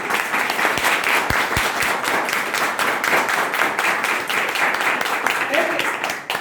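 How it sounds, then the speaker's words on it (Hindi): A crowd bursts into loud, sustained applause, many hands clapping densely and steadily before tapering slightly at the end. "एक बार जोरदार ताली अपने आप को"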